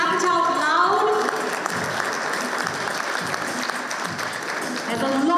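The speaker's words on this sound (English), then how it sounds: "please clap it out loud" An audience applauds at a foundation-day felicitation ceremony for past chairmen and presidents, steady dense clapping that fills the whole stretch, loud and close.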